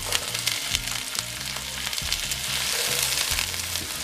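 Onion and celery frying in a pan make a constant close crackle and sizzle with light, uneven stirring scrapes, steady in level and without speech.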